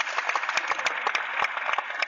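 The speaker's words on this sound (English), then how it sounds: "Can we give a round of applause for Andrew and all of the technical help?" A small audience at a conference in Sochi gives a round of applause for the technical helpers, with sparse, distinct claps rising sharply above a steady hum of clapping, loud and close.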